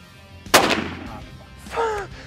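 A single sharp rifle shot cracks loudly at close range during a Kalahari lion hunt, aimed at a lioness, followed by a short echoing tail and a faint voice afterward.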